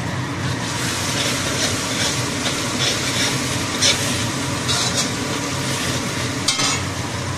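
Onions frying in a pan give a steady, close hiss and crackle, with occasional brighter sizzling bursts and light stirring scrapes.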